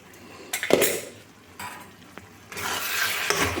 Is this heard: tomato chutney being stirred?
yes